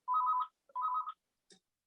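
A phone ringtone for an incoming call plays two short warbling electronic bursts close by, followed by a brief faint click, with no talking over it.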